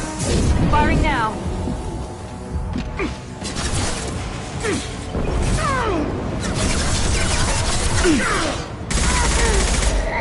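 Gunfire during combat in the video game Mass Effect 2, dense bursts of weapon fire and mechanical clatter layered with whooshing effects and loud impacts, steady and close throughout with a voice speaking briefly under the action.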